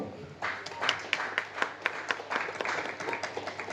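Applause from an audience at a press conference for a Marathi TV serial, a steady wash of many hands clapping with sharper individual claps standing out throughout.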